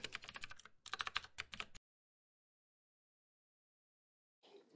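Rapid typing on a computer keyboard into a search bar, a close burst of clicking keystrokes, a short pause, then another quick flurry before near silence and a few final taps.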